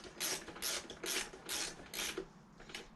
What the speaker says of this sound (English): Better if you reverse the ratchet.